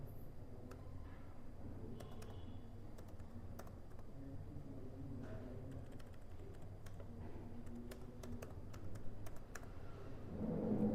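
Computer keyboard keys clatter in quick irregular bursts as a spreadsheet formula is typed, faint and close with steady room hum beneath.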